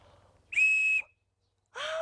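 A handmade reed whistle, its reed glued into the body, gives two clear, bright blasts: a steady high tone of about half a second, a pause, then a second blast starting lower and rising in pitch.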